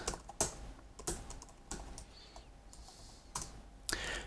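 Sparse keystrokes on a computer keyboard, close and fairly quiet, a handful of distinct clicks spaced irregularly with a final pair near the end.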